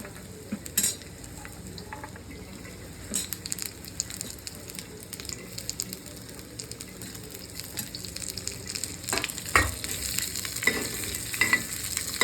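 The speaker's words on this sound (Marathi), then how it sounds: "त्याच्यानंतर अद्रक आणि लसूण हे पण आपण त्याच्यामध्ये परतून घेऊया." Ginger and garlic sautéing in a pan for a chicken masala, a soft steady sizzle broken by intermittent spatula scrapes and clinks against the pan.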